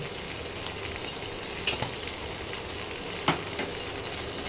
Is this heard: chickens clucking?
no